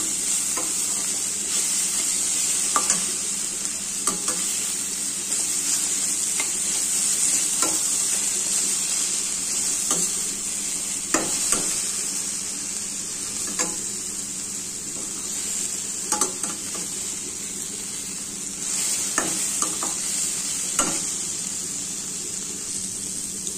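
Okra and green chillies frying in oil, a steady bright sizzle with repeated scraping and clinking stirs of a spoon in the pan throughout.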